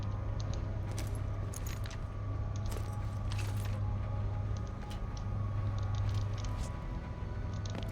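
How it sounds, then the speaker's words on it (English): Gun reloading in Borderlands 3: metallic clicks and clacks arrive in scattered clusters over a steady droning game background, close and moderately loud. "Just checking that my guns were reloaded."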